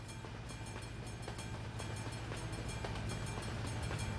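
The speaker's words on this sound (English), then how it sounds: "We can hear the train coming." A train passes through a village in a steady, continuous rumble with rhythmic wheel clicks on the rails, loud and close, with no other sound over it.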